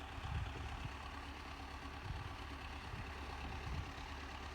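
An old MTZ-50 tractor engine runs at a low, steady idle, a continuous rumbling drone with faint periodic throbs, heard from close by with no talking.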